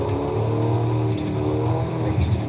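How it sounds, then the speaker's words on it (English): A truck's turbo whines in the video game Forza Horizon 5, a sustained droning engine note with a steady pitched whine that rises and falls slightly as the truck drives along. "I cannot explain to you how much I hate this turbo noise on this truck."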